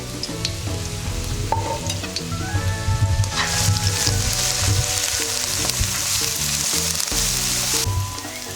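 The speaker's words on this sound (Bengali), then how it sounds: "আমাদের পেঁয়াজ আদা রসুন ভাজা শেষ" Onion, ginger and garlic sizzle loudly in a pan, a continuous crackling fry with occasional stirring scrapes, no voices.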